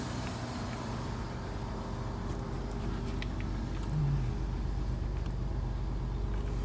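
Steady low engine drone and road rumble from inside a Dodge Dynasty sedan from the 1980s while driving, continuous and even in level, with faint rattles and a brief low tone near the middle, no speech.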